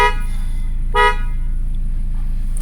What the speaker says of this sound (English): Let me try the horn.